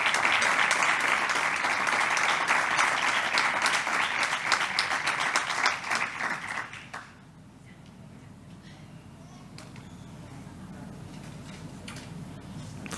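A crowd at a civil protection awards ceremony claps steadily for about seven seconds, then the applause stops abruptly, leaving a quiet room with faint scattered noises.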